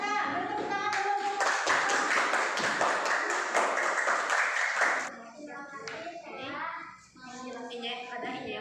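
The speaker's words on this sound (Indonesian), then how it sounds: "Beri tepuk tangan dulu." Applause in an Indonesian eighth-grade classroom for a student group, a dense burst of clapping lasting about five seconds before breaking off into children's voices and teacher speech.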